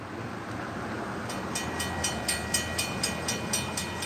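A train nears a crossing after sounding its horn, with a steady rumble of rail noise and repeated regular clacking pulses building over the second half, with no talk.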